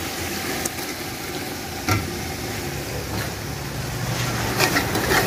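Chicken pieces fry in masala in a pot for chicken kurma, giving a steady dense sizzle with a few soft knocks and a faint clink, close and continuous with no speech.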